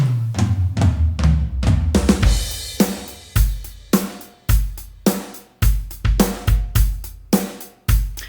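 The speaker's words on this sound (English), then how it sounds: "It's a selection of drum stuff, and it sounds a bit like this." A loud sampled drum kit from GoranGrooves Handy Drums plays a punchy rock groove of kicks, snares and crashing cymbals in a tight repeating rhythm, with no talking.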